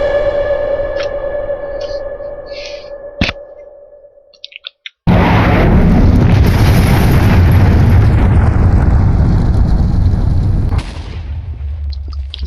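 A missile explosion in the Minecraft Voltz mod, heard as a sharp distant bang followed by a loud, sustained roaring blast. The roar rumbles for several seconds and then drops off abruptly.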